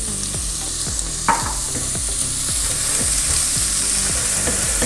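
Chopped onions sauté in a hot pan with a lightly salted, steady sizzle, while repeated scraping strokes of a spoon stir them in a regular rhythm.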